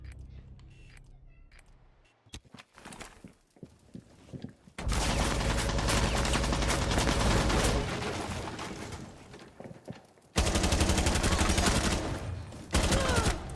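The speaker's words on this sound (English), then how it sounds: "He shot me before I even went around the wall." Dense automatic and burst gunfire from a video game, loud and sustained, with a quieter stretch of scattered shots and movement before the firing swells and continues to the end.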